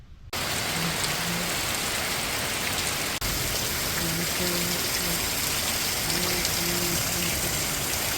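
Steady rain pours down in a constant dense hiss, with a faint low tonal hum repeating in the background.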